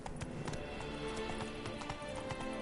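Roach, Geralt's horse in The Witcher 3, gallops with a steady, fast clip-clop of hooves that runs throughout, set against a dense game soundscape of music and ambience.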